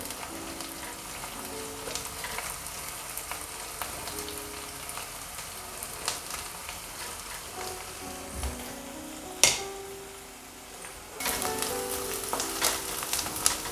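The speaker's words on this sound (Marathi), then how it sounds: "कांदा मिरची भाजत आलेली आहे." Chopped onion, green chili and curry leaves fry in a pan for Maharashtrian kanda poha, making a continuous close sizzle. Occasional sharp stirring clinks and scrapes break through, and no one speaks.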